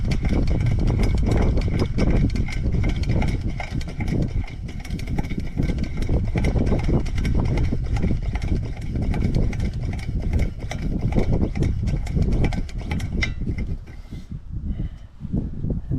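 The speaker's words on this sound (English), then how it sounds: "So we're just going to pump it up a little bit." A Coleman model 275 lantern's fuel tank is hand-pumped, producing a fast, steady run of rhythmic clicking strokes close up that slows and thins near the end.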